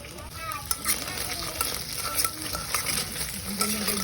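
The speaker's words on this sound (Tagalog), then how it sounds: "Gisa ako ng bawang sibuyas." Garlic and onion sautéing in a pan, a steady close sizzle with scraping stir strokes and small spatula knocks running throughout, no talking.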